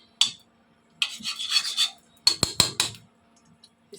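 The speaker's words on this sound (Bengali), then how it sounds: "চামচের সাথে ঘি আছে তো, এই জন্য চামচটা দিয়ে নাড়াচাড়া করতেছি।" A spoon coated with ghee stirs chickpeas in a pan cooked without oil, giving close, bright scraping strokes in short bursts with sharper clinks near the end and quiet gaps between, with no voices.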